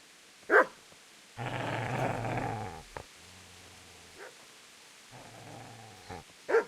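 A dog in the medieval video game Kingdom Come: Deliverance barks sharply a few times and growls in long, low rumbling stretches, close and fairly loud against a quiet background.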